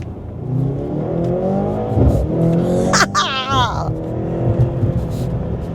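A 2024 Mercedes-AMG C63 S E Performance accelerates hard, its engine note sweeping upward through the gears. The sound is close and loud, with a person talking over it.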